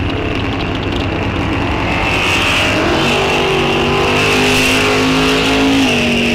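Drag race cars, one of them a Mustang, launch at an NHRA Wisconsin state championship meet at Rock Falls Raceway, with loud sustained engine roar and rising revs as the pair pulls away from the line.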